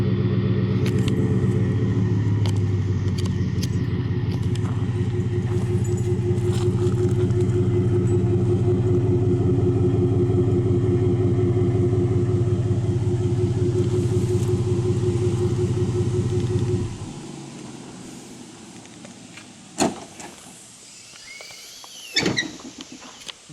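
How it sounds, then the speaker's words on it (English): A Ford F-150 pickup with a second-generation Raptor muffler and tailpipes idles with a steady, deep exhaust rumble for most of the clip, then shuts off, leaving a few clicks and knocks. "Exhaust clip for you."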